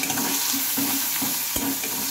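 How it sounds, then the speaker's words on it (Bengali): Thinly chopped onions and green chillies frying in hot oil with a dense, constant sizzle and rhythmic stirring swishes and one sharper knock, close and fairly loud, with no speech. "এবার দিয়ে নেব হচ্ছে পেঁয়াজ কুচি।"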